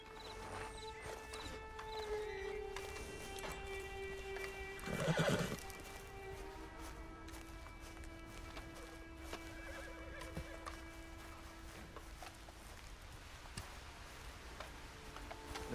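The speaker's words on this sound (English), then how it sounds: "Get on the horse when you're ready." Horse in the online mode of Red Dead Redemption 2 on PS4 Pro: one loud whinny stands out midway above a steady patter of clip-clopping hooves and faint ticking ambience.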